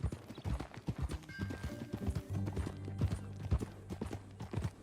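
Horse hooves clip-clop in a steady, rhythmic gait in Red Dead Redemption 2, close and fairly loud over a humming game background with occasional tonal sounds.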